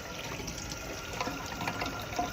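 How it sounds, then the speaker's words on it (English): Hot water from a household tap filling the tank of a VAX Platinum spot cleaner, a continuous hissing trickle and splash that stays steady and fairly quiet throughout. "So I'm just using hot water out of the hot water tap"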